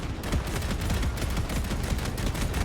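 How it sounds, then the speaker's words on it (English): Twin autocannons on an exosuit mech in Helldivers fire full auto, a dense, continuous, loud stream of rapid overlapping heavy shots with no pauses. "this is the version of the exosuit that has 2 autocannons, 1 on each side."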